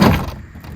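A short scraping pull ending in a dull thud as an interior door panel pops loose from a Chevy Silverado or GMC Sierra truck door, followed by faint rustling handling noise, close by.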